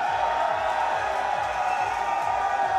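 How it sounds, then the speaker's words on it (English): Tournament crowd at a Super Street Fighter 4 AE top 8 finals roaring continuously, a dense sustained cheer filling the hall. "And now the crowd is going nuts."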